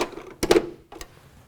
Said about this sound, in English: This snaps into the top.